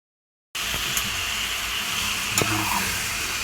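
Chopped tomatoes sizzle steadily in a hot pan of paneer butter masala base, a continuous close frying hiss with a couple of faint stirring knocks, no voices.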